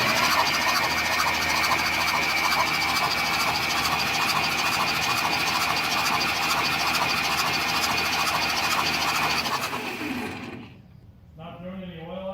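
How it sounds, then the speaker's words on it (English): A dormant 1967 Jeep Gladiator with 6k original miles runs steadily with a busy, loud engine drone, then cuts off near the end, leaving quieter sounds after it. "Engine seems to roll over clean."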